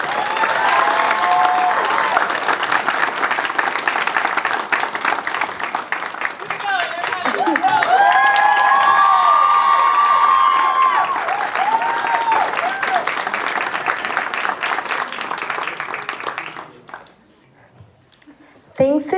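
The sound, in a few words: audience applause and cheering for finalists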